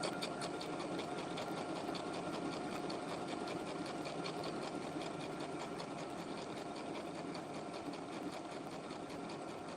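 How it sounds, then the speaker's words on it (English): A sewing machine runs steadily at speed, stay stitching a shirtdress in yellow thread, with a continuous even whir and rapid needle clatter, close and alone throughout. "I'm not changing out my thread on this yellow for the stay stitching."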